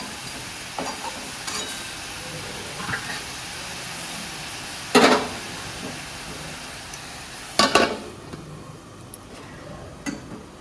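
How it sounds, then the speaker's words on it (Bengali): Leafy greens fry in a pan with a soft, continuous sizzle. Two louder bursts of crackle break through, along with occasional faint ticks and knocks of cookware, heard close by. "এদিকে আমার শাক ভাজা বসিয়ে দিয়েছি"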